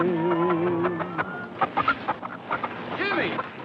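A chicken clucks in short, close bursts in a 1946 film scene, following a stretch of music and a voice.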